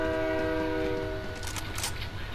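A train in the video game Fortnite hums with steady tonal horn-like drones, joined near the end by brief bright hissing bursts, loud and continuous with no talk.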